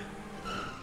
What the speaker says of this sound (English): I hear another cop car down here.